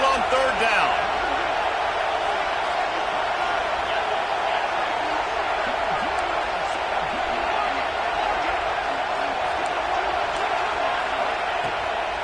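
A home crowd roars at a college football game as the defense tries to get off the field on third down, a steady, dense wall of cheering that holds loud and unbroken throughout.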